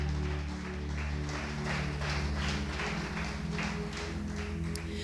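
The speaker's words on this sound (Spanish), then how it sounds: "Y si tú lo crees, dale otro fuerte aplauso." A church congregation claps loudly during a sermon, producing dense sustained applause with a faintly pulsing rhythm over a constant low musical drone.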